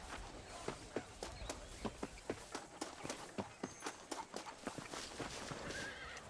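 Steady clip-clop of horse hooves at a walking pace in Red Dead Redemption, a regular rhythm of sharp knocks close by, with a whinny near the end.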